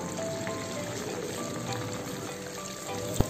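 Karupatti paniyaram batter, made with palm jaggery, frying in hot oil in a pan: a dense, steady bubbling sizzle close by, with a single sharp clink near the end and no talking.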